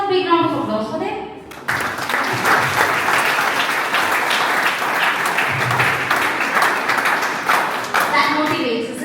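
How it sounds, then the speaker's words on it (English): Loud audience applause for contestants at a class IX school quiz contest, a dense sustained clatter of many hands that cuts in abruptly and runs about six seconds, with voices talking before and after it. "Can I have a big round of applause for them?"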